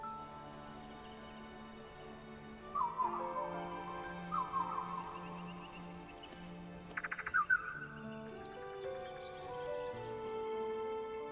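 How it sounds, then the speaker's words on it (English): A bird call in the video game Sky: Children of the Light sounds over soft ambient game music, a few short chirping bursts spaced several seconds apart with no speech. "And a bird call."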